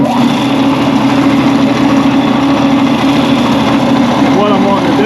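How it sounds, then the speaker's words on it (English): Wood sanding with a power sander on a piece for a DIY smartphone sound booster, a steady loud whirring drone filling the whole stretch without a break. "So let's go ahead and sand this and clean it up and get ready to glue it up."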